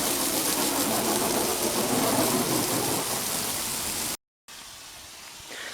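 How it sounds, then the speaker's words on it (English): Garden hose spraying water over a dirty salvage boat, a loud dense hiss of the spray running steadily for about four seconds before cutting off abruptly, leaving faint background noise. "so I've hosed it down"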